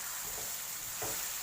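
Curry leaves sizzle steadily in hot oil while pithala fry cooks, a constant hissing with a brief louder flare near the end and no voices.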